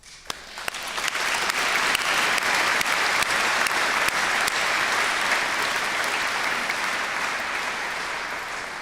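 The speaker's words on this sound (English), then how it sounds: "You always deserve a huge round of applause." A graduation ceremony audience breaks into loud, sustained applause, a dense wash of many hands clapping that swells quickly after a sharp first clap and then holds steady, slowly fading near the end.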